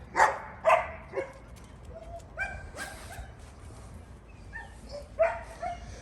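A dog barks and yips in short bursts, several sharp barks spaced irregularly with quieter whimpers between, heard at moderate distance over a quiet room background.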